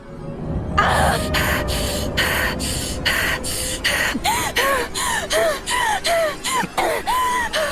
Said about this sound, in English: She was gasping for air.